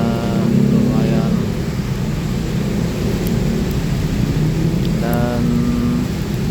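Heavy night rain falls steadily over a street in Makassar, a dense continuous hiss with low rumbling traffic beneath and occasional voices talking over it.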